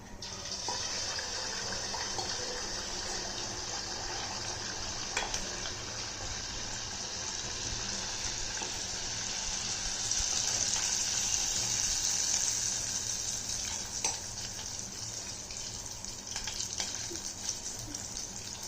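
Paal paniyaram batter poured into hot oil sets off a continuous, moderately quiet sizzling hiss that swells a little partway through and keeps going steadily, with no voices.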